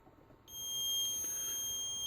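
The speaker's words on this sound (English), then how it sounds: "you're listening for after the long beep, you're listening for 2 beeps" A single steady high-pitched electronic tone from a wiMOTE Gatekeeper car audio amplifier remote starts after a short pause and holds without break, clear and fairly close, with no talking.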